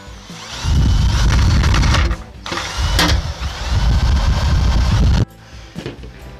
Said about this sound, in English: Let's see if I can get it to spin with the screwdriver.